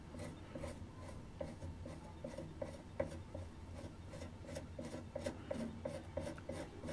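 Tool scraping back wax filler on a wood-turned colour pencil goblet, a continuous close raspy rubbing with small repeated clicks and strokes throughout.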